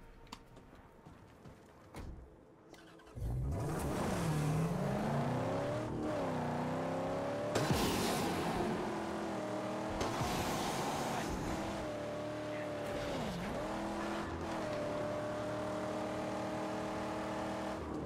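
A car engine driving in the Mad Max video game, starting quietly, then surging loud with revving and gear-shift pitch swoops that continue steadily, with a voice talking briefly over it.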